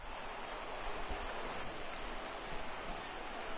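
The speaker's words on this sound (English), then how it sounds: "the rain starting to intensify here. It's coming down a little heavier now." Steady rain falls on a ballpark in MLB The Show 19 during a Red Sox versus Astros game, a dense even hiss that holds unbroken throughout with no voices.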